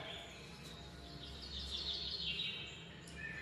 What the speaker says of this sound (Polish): śpiewają ptaszki